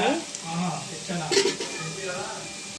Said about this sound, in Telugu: ఉల్లిపాయ బాగా ఫ్రై అయితే బాగుంటుందండి